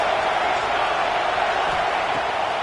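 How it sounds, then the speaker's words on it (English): Stadium crowd in the College Football 26 video game roaring in a continuous, even wall of noise, loud and sustained with no breaks. "This crowd trying to make life miserable for this offense."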